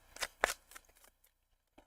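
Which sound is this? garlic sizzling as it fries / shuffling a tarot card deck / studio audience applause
shuffling a tarot card deck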